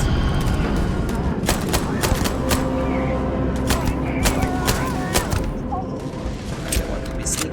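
Shots from an enemy pirate in the Starfield video game crack out as a rapid burst of sharp reports over a steady game ambience, with a few heavier thuds mixed in.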